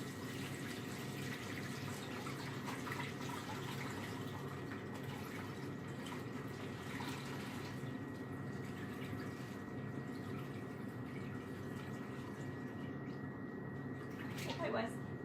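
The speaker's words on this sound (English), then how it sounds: "We're gonna pour this butter through this strainer spoon and into the bowl" Homemade butter and its liquid poured through a strainer spoon into a bowl, giving a steady, close trickling and splashing that runs continuously under people talking.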